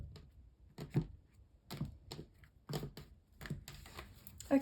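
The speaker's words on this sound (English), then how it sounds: "I'm going to cut up the deck now for you" A tarot card deck is cut and handled close by in quiet, with a series of soft, separate card snaps and shuffles.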